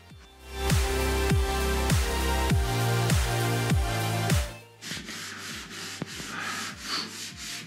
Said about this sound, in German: Wir sind jetzt am Schleifen.